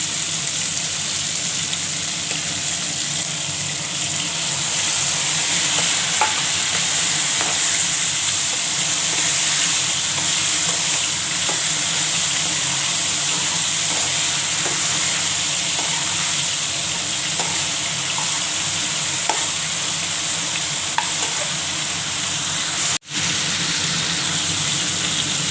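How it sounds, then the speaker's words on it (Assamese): Vegetables with mustard paste fry in a hot pan. They give a loud, steady sizzle with faint stirring clinks and no voice. "এয়া মই এয়া ভাজি আছোঁ"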